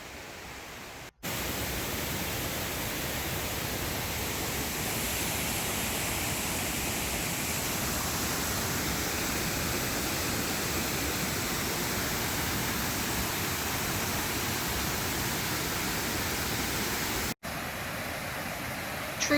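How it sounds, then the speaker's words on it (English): Waterfall at Falls Park, a loud, steady broadband rush of falling water heard close up and continuous for most of the span, with brief breaks at the start and end. "True to its name, Falls Park has a beautiful waterfall."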